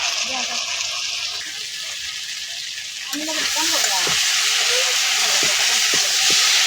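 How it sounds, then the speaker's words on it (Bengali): Vegetables sautéing in a pan for a fish curry, a steady close sizzle and hiss that swells louder midway, with stirring scrapes and a voice speaking over it. "এদিকে আনাজটা বারোটিয়া কষাই নিতেছি দেখুন"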